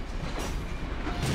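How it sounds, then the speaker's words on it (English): A train in Metro Last Light Redux rolls away on its own, a loud, dense rumble of wheels and carriage noise filling the whole moment without pause. "Okay, so this train's going off on its own now."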